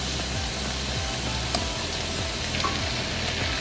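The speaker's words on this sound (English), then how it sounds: "Here I am searing the filet mignon, and when I flip it, I put it onto a new side on the skillet." Filet mignon searing in a hot skillet, a steady loud sizzle and crackle of frying fat running throughout, with a few brief clinks and scrapes as the steak is moved.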